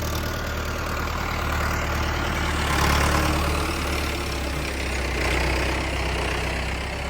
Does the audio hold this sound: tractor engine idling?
yes